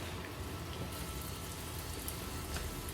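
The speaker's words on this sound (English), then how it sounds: "Let's fry this Kuih Keria in hot oil." Sweet potato donuts (Kuih Keria) frying in a pan of hot oil give a steady, close, rain-like sizzle and crackle that runs unbroken throughout, with no talking.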